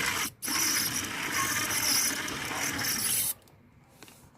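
A small USB cordless drill drives screws in tight, giving one long, steady, close whirring and grinding run that breaks briefly near the start and stops abruptly, leaving quiet handling.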